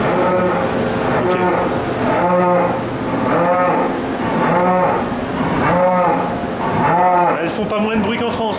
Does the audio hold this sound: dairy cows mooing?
yes